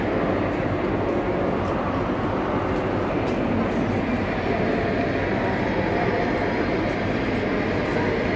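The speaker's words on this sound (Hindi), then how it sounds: "अभी ये एक ट्रेन रुकी है, उसकी सवारियां देखिए कितनी ज़्यादा आ रही हैं।" A train stops at a busy railway station in Frankfurt, producing a dense, loud, continuous rumble and roar that fills the space, with crowd voices mixed in.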